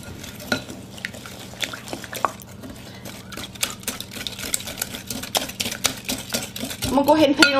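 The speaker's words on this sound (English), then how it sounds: "I'm going to take a wire whisk and mix this together well." A wire whisk beats Japanese pie filling of sugar, eggs and melted butter in a bowl, making quick rhythmic clicking and scraping taps close up, with a voice talking near the end.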